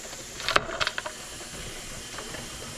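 A pressure cooker of fish in bottles vents steam in a few short, sharp hissing bursts nearby, then goes back to a quiet background hiss.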